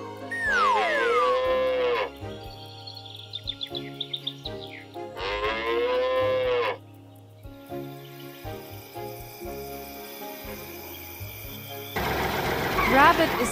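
Toy cattle on a farm diorama giving long loud moos, two drawn-out calls near the start, with bird chirps, background music and other synthetic effects following.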